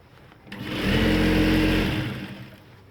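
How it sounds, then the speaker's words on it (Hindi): A sewing machine stitching ladies' pant fabric, running in one steady, close whirring burst of about a second that swells up and then tapers off, with no talk. "फिर बीच में हम सिलाई लगाएंगे ऐसे ऐसे खींच कर।"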